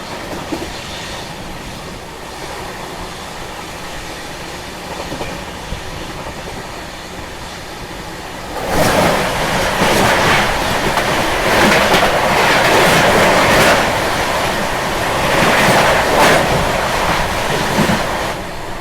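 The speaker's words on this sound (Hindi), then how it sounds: "सामने से आ रही है कुशीनगर एक्सप्रेस" The Kushinagar Express, running Gorakhpur–Mumbai, rushes past at close range. A quieter approach gives way after about nine seconds to a loud, sustained roar with rhythmic clickety-clack from the wagons over the rails.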